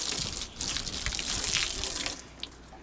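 Steady rush of water spraying from a hose onto a boat hull, loud and continuous for about two seconds before easing off, with a brief splash near the end.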